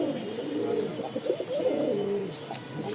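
A pair of red Lal Sundori pigeons coos steadily at close range, a continuous low, throaty burbling with faint background hiss and no talking.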